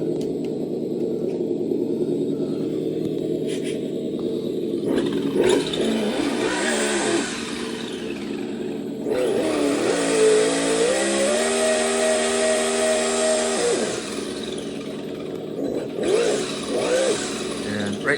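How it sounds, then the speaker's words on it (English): Electronic exhaust sound system on an Associated DR10 no-prep RC drag car styled as a Plymouth Superbird, set to its lowest volume, giving a close synthetic engine rumble with repeated rising revving bursts and idle between them. "Right now, this is on the lowest exhaust sound right now, lowest volume."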